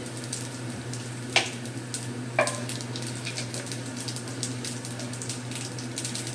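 Soft, steady sizzling of carom seeds frying in hot oil, with a couple of sharp clinks from a utensil early on.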